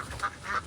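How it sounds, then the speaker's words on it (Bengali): Farm ducks being let into a river give two short, faint quacks in quick succession. "হাঁসগুলোকে সবগুলোকে পানিতে নামানোর ব্যবস্থা করতেছি আমরা"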